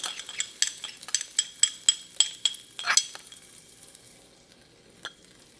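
Ginger and garlic saute in olive oil in a wok, with about a dozen quick, rhythmic metal clinks and scrapes of a utensil over a soft sizzle that thins out and goes quiet near the end.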